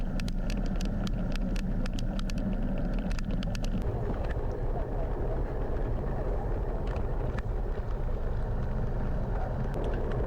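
Cars on a road bridge over the river near Mackay pass a cyclist as steady traffic, a faint continuous rumble of tyres and engines mixed with wind buffeting, no one speaking.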